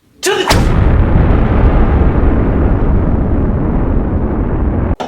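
A sudden loud explosion erupts after a brief crack, followed by a long sustained rumbling roar that fades slowly and then cuts off abruptly.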